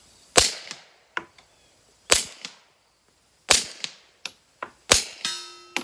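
Several sharp, muffled pistol shots through a Dead Air Mojave 45 suppressor, fired at uneven intervals, each a short crack with brief echo, plus a small metallic ping near the end.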